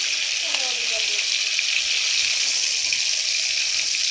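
Bhola fish frying in a pan, a steady dense hiss of hot oil crackling close and loud throughout, with a brief higher squeak early on.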